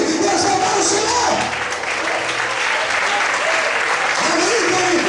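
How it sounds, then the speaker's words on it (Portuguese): A church congregation applauds steadily and loudly throughout, a dense wash of clapping from a large crowd with faint voices mixed in beneath it. "Todos podem aplaudir e exaltar o Senhor."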